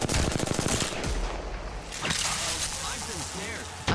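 Gunfire in Apex Legends, with a rapid burst of close automatic shots in the first second followed by scattered sharp cracks and game effects.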